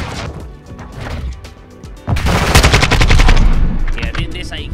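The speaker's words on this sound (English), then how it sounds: "Yeah, this AK is insane." An AK rifle in Call of Duty Modern Warfare 2 fires in rapid, loud automatic bursts, with a heavier sustained stream of shots and impacts in the second half.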